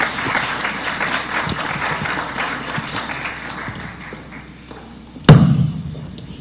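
Audience applause at an investment conference panel, a steady patter of clapping from a crowd that fades out, followed by a single loud thump near the end.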